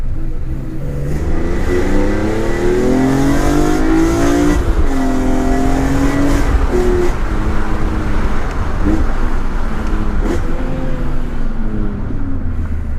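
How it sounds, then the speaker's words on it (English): A 2003 BMW E46 M3 CSL straight-six revs loudly up and down through gear changes, its engine tone climbing, dropping and climbing again close by, with a steady roar throughout. "slowly changing gear now"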